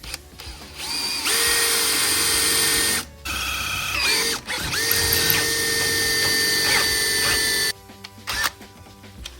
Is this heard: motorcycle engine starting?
no